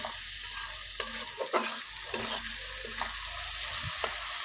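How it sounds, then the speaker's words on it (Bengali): Chopped onion, salted, fries in a pan with a steady sizzle while a spatula stirs it in repeated scraping strokes, close and alone without talk. "পেঁয়াজটা খুব বেশি ভাজা ভাজা করব না"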